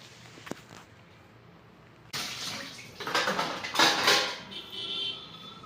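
Running water from a tap splashes over dishes, starting abruptly and swelling in strength with clattering, close and with no one talking.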